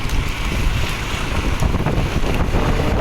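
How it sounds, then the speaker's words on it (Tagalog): Strong wind buffets the microphone with a loud, continuous roar and rumble, gusting unevenly throughout, with no talking, outdoors during pigeon training. "Yan, lakas-lakas ng hangin."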